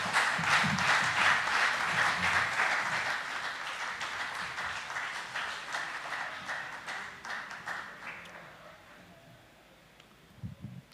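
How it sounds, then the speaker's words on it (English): A large audience applauds loudly with dense, continuous clapping that gradually thins and fades out near the end. "give him a really, really big round of applause"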